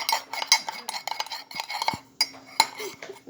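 A metal utensil clinks and scrapes against a bowl while cookie ingredients are stirred together, giving close, irregular taps and rattles over a few seconds.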